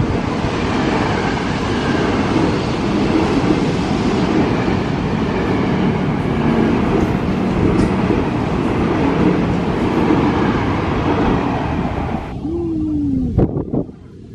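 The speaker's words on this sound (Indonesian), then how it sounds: "Kereta jurusan Cikarang." A train rolls past a disused old station on a line to Cikarang, a loud, steady roar of wheels and wind buffeting close to the track for many seconds before easing off at the end.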